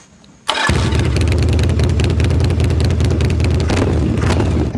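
A Yamaha Virago motorcycle with a modified starter cranks and fires up abruptly after a moment of quiet, then settles into a loud, steady, close idle.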